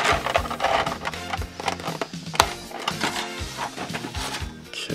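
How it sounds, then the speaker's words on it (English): Plastic part of toy figure packaging being undone by hand, a close series of sharp clicks, crinkles and snaps in an irregular rhythm, with no talking. "Gonna undo this plastic part."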